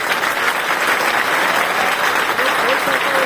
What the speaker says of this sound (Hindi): आपको उनके लिए जोरदार तालियां दिल से बजाना चाहिए